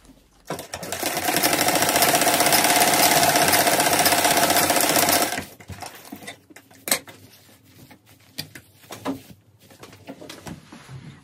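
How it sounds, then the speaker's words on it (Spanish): A sewing machine stitching the elastic waistband of shorts made from a sweater, a loud steady rapid whir for about five seconds, then stopping, followed by scattered clicks and handling noises of fabric and parts. "Aquí yo voy a coser."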